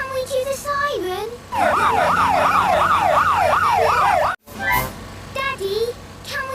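Cartoon siren from a police car carrying the Peppa Pig family, a loud wailing tone rising and falling rapidly in a steady zigzag for about three seconds, with a voice and other cartoon voices speaking before and after.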